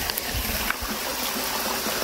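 A mountain stream gives a steady close rush of flowing water over rocks, continuous and fairly loud from start to end with no other sounds standing out.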